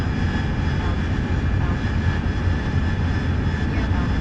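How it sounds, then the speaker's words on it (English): A jet aircraft in a video game attempts a vertical VTOL takeoff, its engines giving a steady, loud roar that holds without a break throughout. "make ourselves light enough to actually do a VTOL takeoff"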